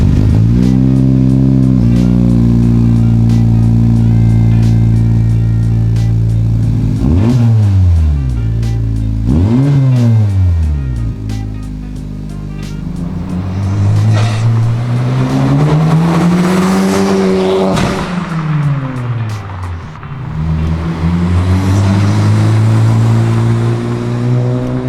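A 10th generation Honda Civic fitted with an Invidia exhaust revs repeatedly, loud and close, with sharp rises and falls in engine pitch followed by a longer sustained rev and drop, no talking over it.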